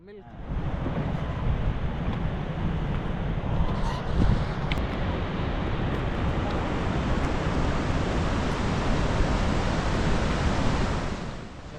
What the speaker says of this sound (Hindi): झरने की आवाज़ बहुत ही ज़्यादा तेज़ और बहुत ही ज़्यादा मैसिव है।